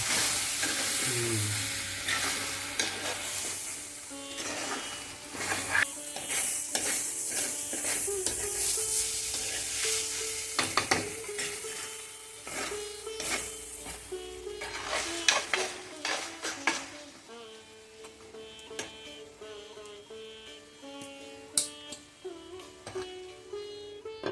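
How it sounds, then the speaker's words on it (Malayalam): Steady sizzling of prawns and bilimbi frying in a pan over low heat, with repeated scraping and clinking of a utensil stirring through it. "നമുക്കൊന്ന് ഇളക്കി കൊടുക്കാം."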